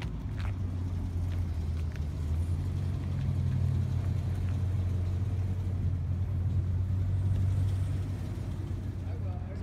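A car on a Sunday morning cruise gives a steady low engine rumble that carries evenly through the whole stretch, with other cars nearby on the road.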